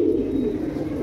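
An old-generation black line pigeon coos in a continuous low, vibrating purr, steady and close, with no other sounds.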